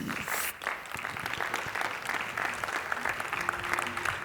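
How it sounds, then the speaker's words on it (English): Sustained audience applause at a hospitality leadership event as a founder and chairman is called on stage, dense steady clapping filling the room with a brief dip early on and no talk. "A round of applause, please."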